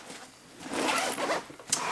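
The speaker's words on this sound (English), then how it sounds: "to open the compartment, it's this zipper right here" A backpack compartment zipper is pulled open in one continuous run, close and crisp, a raspy ripping slide with a small snag near the end, with no voices.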